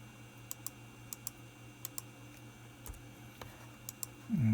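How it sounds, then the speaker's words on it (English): Computer keys are tapped in sparse, light clicks spread unevenly over a few seconds, faint against a low steady hum, with no voices. "I'm going to type in 10, and we got to get rid of the T"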